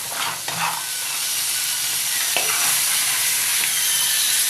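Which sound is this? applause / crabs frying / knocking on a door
crabs frying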